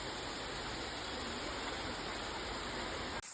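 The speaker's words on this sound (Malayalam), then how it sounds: "ദൂരെ അവിടെ പാറയിൽ നിന്നും വെള്ളം ഇങ്ങനെ ഒഴുകി വരുന്നുണ്ട്" A waterfall pours down from rocks into a stream, making a steady, even rush of water that fills the whole stretch before cutting off abruptly at the end.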